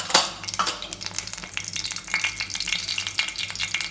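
Mustard seeds sizzle and pop in hot oil in a pan, a steady crackling fry with sharp little spits and light utensil clinks, no voices.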